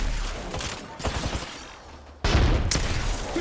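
Peacekeeper shotgun shots in Apex Legends: a rapid string of gunshots from several weapons at first, then a pause and a single heavy, loud blast with a fading tail.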